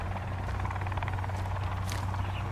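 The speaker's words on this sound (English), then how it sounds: "I'm hearing a helicopter. Looks like the helicopter is kind of circling around there" A helicopter in the video game Sons of the Forest circles overhead, its steady low rotor thrum and engine drone filling the whole moment with no talk over it.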